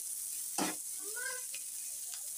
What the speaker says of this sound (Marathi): कांदा कांदा चांगला भाजून घेऊया आपण